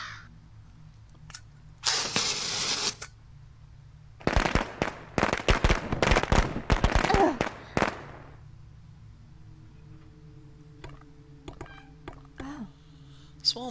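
Small fireworks crackling in a cyberpunk ghost story video game, a burst of hiss followed by a rapid string of loud sharp pops and bangs that fades into scattered faint crackles.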